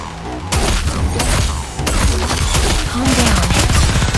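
Sustained automatic gunfire in the NIKKE shooter game, loud and continuous bursts with short gaps between volleys, punctuated by heavy thuds and a brief tonal effect near the end.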